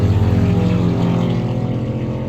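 Loud, close engine roar of motorcycles passing by a house, a steady harmonic drone that stays strong throughout before easing slightly, with no talk.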